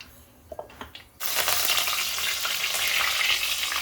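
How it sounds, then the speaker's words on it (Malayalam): Mustard seeds dropped into hot coconut oil burst into a sudden loud, steady spluttering sizzle after a few soft clinks, close up and continuing to the end, with no voices. "വെളിച്ചെണ്ണ മൂത്ത് നമ്മൾ കടുക് ഇട്ടു"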